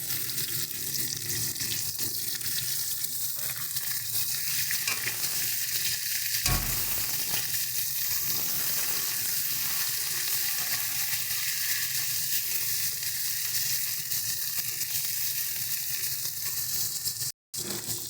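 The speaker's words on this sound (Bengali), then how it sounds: "বেগুনটা একটু বেশ কিছুক্ষণ ভাজা হোক," Steady loud sizzling of eggplant frying with onions in a pan, with occasional scraping and stirring sounds throughout, no voices.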